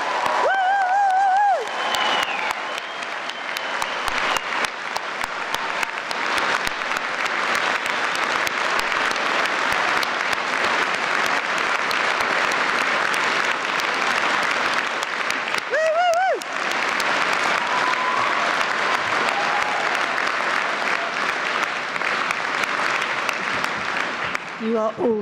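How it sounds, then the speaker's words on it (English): An audience at a Gateshead degree ceremony claps continuously in a long, full round of applause. The dense crowd clapping runs at a constant level with a few faint calls or a brief voice surfacing in the mix. "Really, really big round of applause."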